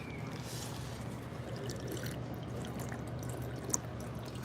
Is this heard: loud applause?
no